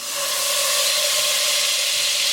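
Half a stick of butter sizzles in a hot pan for a scratch-made Alfredo sauce, giving a steady, loud, bright hiss that holds evenly throughout with no voices.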